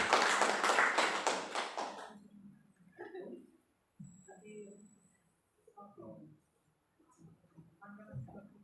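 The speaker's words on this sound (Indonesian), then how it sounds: "Mohon tepuk tangan dari Bapak Ibu sekalian yang berbahagia." A school audience at a positive-culture outreach event at a junior high breaks into a dense burst of clapping for about two seconds, then it stops abruptly and only scattered quieter room sounds remain.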